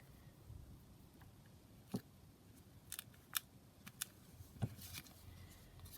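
Scissors snip paper during paper-craft booklet making: a few separate crisp cuts, quiet and close, spaced out over a low, steady room background with no talk.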